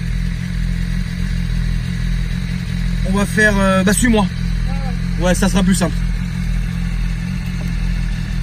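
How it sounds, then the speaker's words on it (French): A BMW S1000RR motorcycle engine idles in a steady low drone beneath two people chatting nearby. "c'est une très belle moto, la S1000RR"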